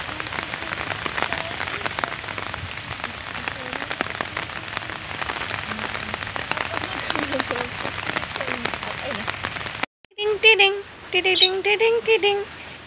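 Steady rain falls outside on a morning, a dense patter of drops on surfaces that cuts off near the end, followed by a short burst of louder sound.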